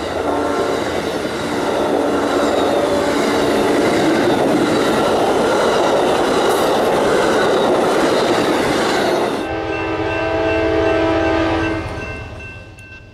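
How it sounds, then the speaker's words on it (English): An eastbound grain freight train rolls through Chesterton, Indiana, with a loud, close, sustained rumble of wagons and rail clatter, then a strong horn blast near the end as the cars keep passing. "This is a grainer that was heading eastbound through Chesterton"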